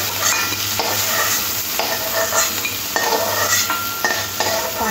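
Prawns frying in oil in a wok for a Bengali spicy potato-and-prawn dish, with a steady close sizzle and the scrape and clink of a spatula stirring against the pan throughout.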